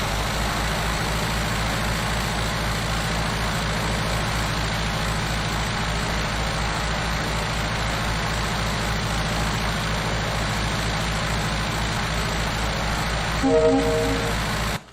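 An aircraft engine at reduced throttle in Microsoft Flight Simulator X, a steady low droning hum that holds evenly throughout, with a brief tonal chime near the end and no talking.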